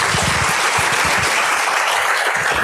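Dense, sustained applause fills an auditorium honoring International Women of Courage awardees, a steady wash of many hands clapping at full loudness with a few low thuds and murmurs underneath.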